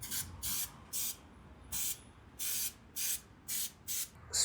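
Aerosol chain cleaner sprays onto the chain of a Royal Enfield Himalayan 450 in short, close hissing bursts, about eight in a row with brief pauses between them.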